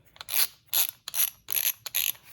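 A Mac ratcheting screwdriver clicks in five quick bursts of fine metallic ratchet ticks, close and fairly quiet, with no talking.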